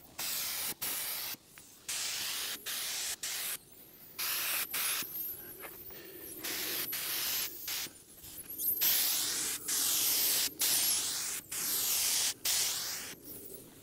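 Polyacrylic finish sprayed from a sprayer in repeated bursts, each a bright hissing spray lasting about a second or two with short gaps between, growing longer and louder toward the end, no voices.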